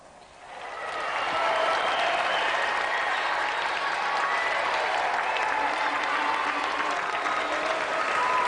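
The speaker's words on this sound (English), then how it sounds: "Round of applause for tonight's challenger." A studio audience on a TV game show breaks into sustained applause, building quickly in the first second and then holding steady and full.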